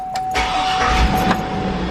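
A Chevrolet Tahoe bought from a Copart auction, suspected to have a faulty purge solenoid, cranks briefly and its engine catches, then settles into a loud, steady idle close by.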